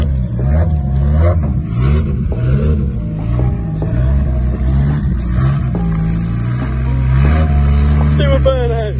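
Rusty Mazda MX5 engine revving loudly up close, a rough continuous roar rising and falling through repeated throttle blips for the whole stretch.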